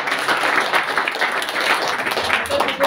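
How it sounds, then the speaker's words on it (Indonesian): An audience at a Christian revival talk show claps together for a guest, a brisk, fairly close and loud patter that runs evenly throughout. "Kita tepuk tangan untuk Ibu Cindy."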